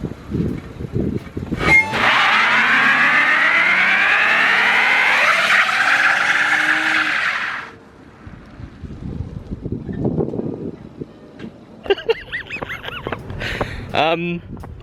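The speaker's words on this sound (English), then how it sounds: "Yes, it does do a burnout." A Lexus VIP-style car does a burnout: a loud, sustained roar of engine revving and tyre squeal lasting several seconds, then fading into lower rumbling and scattered clattering noise near the end.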